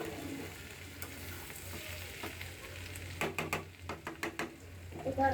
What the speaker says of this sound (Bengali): এই যে একদম ভাজা ভাজা করে ফেলছি।